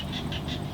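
Small frogs croaking in a soft, steady rhythm in the evening after rain, a few evenly spaced calls over a low background hum, fairly faint and distant.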